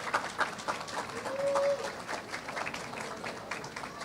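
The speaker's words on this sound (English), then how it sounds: "That deserves a round of applause." An audience claps at a school-year celebration, a moderate, crackling wash of applause that runs throughout, with a brief whistle rising over it near the middle.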